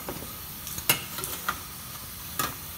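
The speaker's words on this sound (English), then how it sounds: "Take my handy dandy stirring spoon and stir it." A spoon stirring Turkish coffee in a pot on a Coleman camp stove, with a few sharp metallic clinks against the rim over a steady background hiss, close by and without speech.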